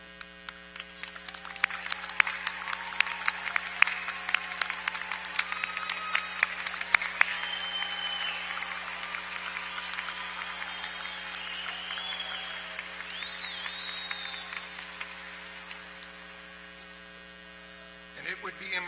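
A commencement audience of family and friends applauds at length in a large hall, the clapping swelling then fading out, over a steady electrical hum.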